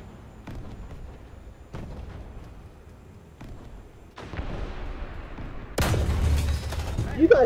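A tank cannon in a video game, with the player driving a Swedish tank, fires several booming shots, the first ones muffled and spaced apart, building to a loud, sharp blast near the end, with some voice in the background.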